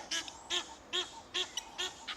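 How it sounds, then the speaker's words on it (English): A pair of Egyptian geese in the Greater Kruger call while chasing off an intruder, giving five harsh honking blasts at a steady rhythm, fairly close and loud against a quiet outdoor background. "This pair of Egyptian geese were chasing off an intruder."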